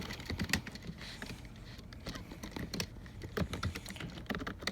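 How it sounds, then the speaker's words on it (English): Computer keyboard typing, a quick irregular run of light clicks and taps at close range, fairly quiet and without speech. "I'm just typing to some friends."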